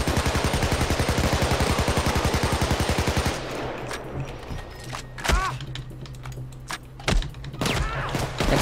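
Gunfire in the video game Payday 2: a loud rapid automatic burst of about three seconds, followed by scattered single shots and impacts amid game noise.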